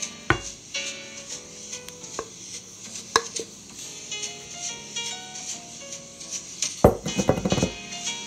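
Sugar cookie dough dropped onto a floured kitchen counter, heard as a dull, close thud near the end, with a few light knocks and clinks scattered earlier.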